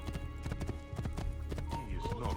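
Galloping horse hooves in the video game Assassin's Creed 2 make a loud, rapid clip-clop that runs throughout, mixed with other game sounds.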